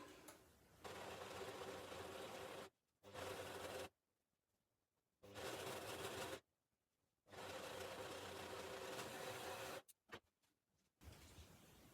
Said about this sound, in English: But as I have a serger and I love it, I'm going to use it.